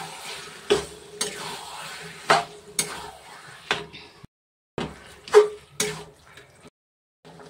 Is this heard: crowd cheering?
no